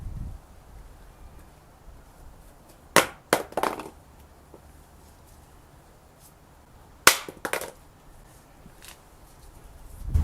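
A Doogee phone is dropped face down onto concrete from about five feet, giving two sharp, loud impacts a few seconds apart, each with a quick clattering bounce, against a quiet background.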